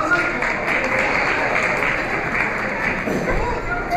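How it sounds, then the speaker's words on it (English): A banquet audience gives a volunteer a round of applause, dense and steady clapping from a crowd that carries on without a break. "Give her a round of applause."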